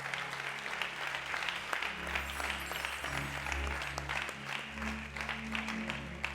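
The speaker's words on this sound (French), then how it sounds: "tu peux acclamer le Seigneur" A church congregation clapping and cheering for the Lord during a French-language service, with sustained applause over a low, droning musical accompaniment.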